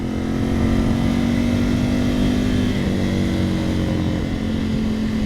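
A 2020 Ducati Scrambler 1100 motorcycle engine running at a steady, loud, droning pitch, holding close and constant with wind rush and no clear rise in revs.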